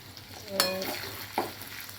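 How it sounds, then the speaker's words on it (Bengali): Pointed gourd (potol) frying with turmeric fills the pan with a soft, continuous sizzle, broken by two sharp spatula scrapes against the pan about a second apart. "লাস্ট পটল ভাজা হচ্ছে,"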